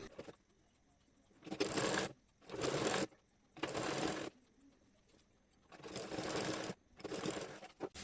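A sewing machine stitches a saree blouse in several bursts of steady whirring, each lasting about a second or two with quiet pauses between them, heard up close with no speech.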